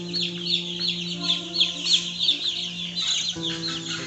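Broiler chicks cheep in a dense, continuous chorus of high overlapping peeps while drinking water, the whole flock close by and steady throughout with no talk.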